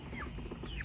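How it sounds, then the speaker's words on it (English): Soft, faint peeping and chirping from young farm ducklings a few months old, scattered thin calls over a steady background hum. "We got baby ducks right here."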